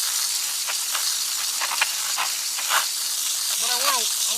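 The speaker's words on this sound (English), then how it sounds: "take a pressure sprayer and not too roughly," A pressure sprayer washes soil off the roots of a bonsai juniper, making a steady airy hiss with uneven spurts as the jet moves. A faint tonal sound wavers near the end.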